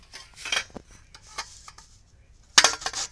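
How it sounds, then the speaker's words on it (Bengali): Cauliflower florets rubbed against a metal grater in a home kitchen, giving a few short, scraping, metallic strokes with quiet pauses between them and a louder, harsher burst near the end. "এবার ফুলকপিগুলো এই গ্রেট মেশিন দিয়ে গ্রেট করে নেব"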